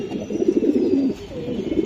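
A young female club racing pigeon, kept with her chicks, coos in close, throaty rolling phrases that swell and fade over about two seconds, with no talking.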